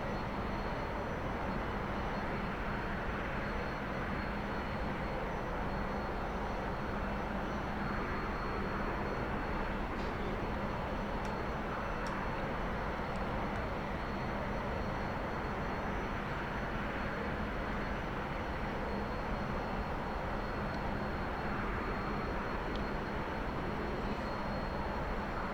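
A T-45C Goshawk jet engine held at 90% power in the DCS flight simulator, a steady, loud broadband roar with a low hum, continuous throughout without speech.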